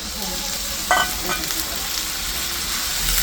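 Chicken curry cooks in oil in a pan with a loud, steady sizzle. A brief sharper hiss bursts up about a second in, as if water hits the hot oil, then the frying carries on evenly.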